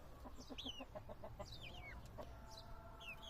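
A hen clucks softly in a quick repeated series, with her chicks' high peeping chirps scattered above it. Quiet and steady.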